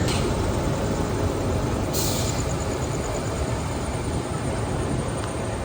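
The Netravati Express, running from Ernakulam to Mumbai behind a green WG9 goods locomotive, fills the air with a dense, steady rolling roar and rumble, constant and close, with no voices.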